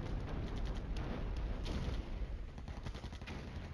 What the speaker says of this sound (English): As the mortar's falling